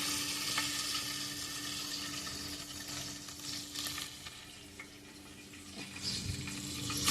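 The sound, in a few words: mustard seeds sizzling in hot oil for tempering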